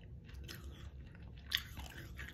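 Crunchy bites into dry fruit, with a sharp crisp crunch near the middle over steady close chewing, loud and near with no talk.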